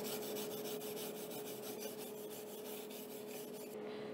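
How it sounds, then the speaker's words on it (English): A wire brush scrubs steel tubes clean during a welding project. The rasping strokes are steady and close, and a constant tonal hum runs underneath, with no talk. "I'm gonna wire brush them clean."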